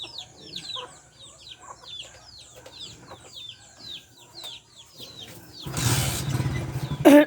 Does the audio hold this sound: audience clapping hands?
no